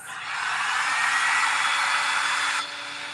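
A hair dryer blows over handmade North Pole Christmas ornaments, switching on to a steady, loud airy whoosh that holds evenly for a couple of seconds before cutting back down, with no talking.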